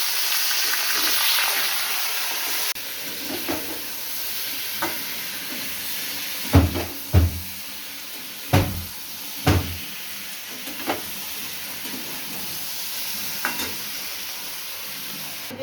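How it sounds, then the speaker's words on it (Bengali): Cumin seeds, bay leaf and dried chilli tempering in hot oil for dal, giving a steady close frying sizzle and hiss with several sharp clatters and stirs partway through, no voices. "জিরা ফোড়ন দিলাম, তেজপাতা দিলাম, শুকনো লঙ্কা দিলাম"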